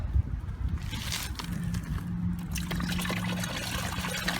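Coolant flush water draining from a Suzuki GSX-R motorcycle, a steady close trickle and splatter of liquid pouring out, continuous and fairly loud with no talk.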